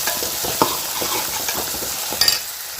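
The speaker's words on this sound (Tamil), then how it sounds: "உருளைக்கிழங்கு சேர்த்து அதை ஒரு வதக்கு வதக்கிக்கலாம்" Potatoes being sautéed and stirred in a pan for a Tamil lunch menu, with a steady sizzle of frying under scraping stir strokes and a couple of brief clinks, with no talking.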